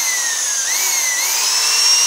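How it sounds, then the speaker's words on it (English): A power drill bores bolt holes for the chain drive mount on a Razor E300 electric scooter motor upgrade, giving a steady high whine that rises slightly in pitch, loud and close, with no talk. "the trick is to drill in stages"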